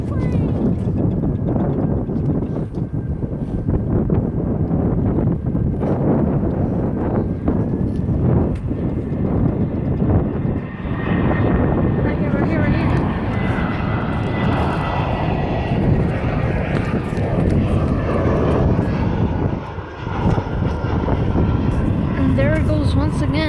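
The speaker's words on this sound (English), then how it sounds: "There it goes once again. I don't even know what airplane was that." An airplane passes near an airport with a loud, steady engine roar that fills the whole stretch, swelling slightly as it goes by.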